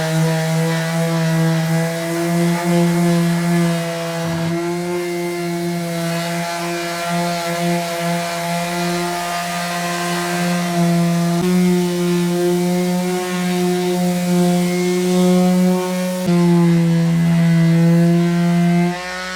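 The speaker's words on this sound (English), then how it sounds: "I think it's time to bring out the Black & Decker mouse. This should be exciting and noisy." A Black & Decker Mouse sander works on car bodywork paint, giving a loud, steady electric drone with a strong hum and overtones. It runs continuously, with slight shifts in pitch as the pressure changes.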